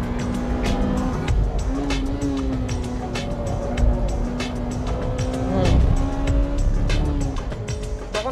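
A Honda Type R race car at full throttle on a circuit produces a loud, sustained engine howl that rises and falls through gear changes, with brief tire squeal and road noise alongside.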